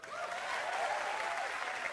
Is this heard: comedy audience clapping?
yes